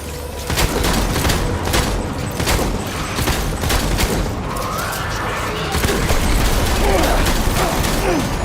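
Dense gunfire in the video game Death Stranding, a loud continuous fusillade of rapid shots and booms with mechanical clatter filling the whole stretch, and a voice talking over it in places.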